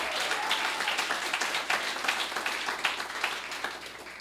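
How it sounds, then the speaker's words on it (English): A summit audience breaks into a sustained round of applause, many hands clapping steadily at moderate distance, fairly even in volume across the few seconds with no talk over it. "big round of applause to Parallel18"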